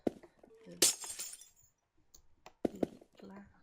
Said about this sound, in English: glass everywhere.